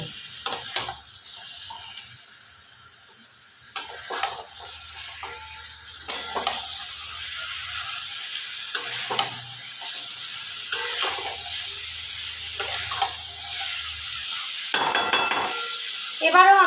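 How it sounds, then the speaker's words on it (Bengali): Kashmiri chicken sautéed and stirred in a pan, with a steady frying sizzle broken by repeated spoon scrapes and clinks against the metal every few seconds, close and fairly loud, with no talking. "আবারও ভালো করে কষিয়ে নেব"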